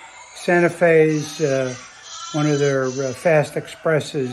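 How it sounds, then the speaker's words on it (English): Farm livestock, likely sheep, bleat repeatedly in the background of a model train layout running a Santa Fe LSX livestock stock-car express, the cries mixed in with someone talking. "You probably hear some animals in the background."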